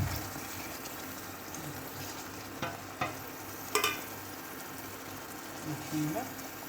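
Egg curry masala goes into a hot pan and is stirred, giving a steady low sizzle under a few sharp utensil clacks and scrapes, with a brief faint voice near the end.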